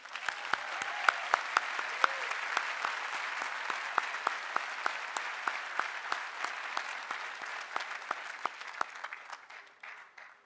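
A commencement audience applauds continuously with dense, even clapping that holds steady and fades toward the end, heard from within the crowd with no talking.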